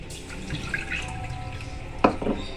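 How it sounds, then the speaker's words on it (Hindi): Water poured from a cup onto two cups of sugar in a pan for gulab jamun syrup in a home kitchen, a soft trickling splash with a brief louder pour near the end, close and alone. "तो इसमें पानी शामिल करेंगे।"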